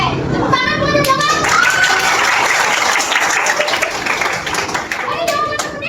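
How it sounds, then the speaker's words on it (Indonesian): A classroom of vocational high school students claps hands together in a steady burst of applause that fills the whole clip, with children's voices mixed in. "Oke, tepuk tangan dulu"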